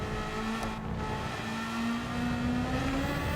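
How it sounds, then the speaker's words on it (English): A Suzuki race car engine in Gran Turismo 7 holds a steady, high-pitched whine at full throttle, sustained and fairly loud, its pitch rising gradually as the car accelerates, with no talk over it. "You can hear that scream of this Suzuki engine."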